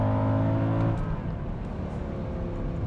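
A 2011 Mercedes E63 AMG with its 6.2L naturally aspirated engine pulls under acceleration. The strong engine drone drops in pitch at a downshift and then carries on, heard from inside the car.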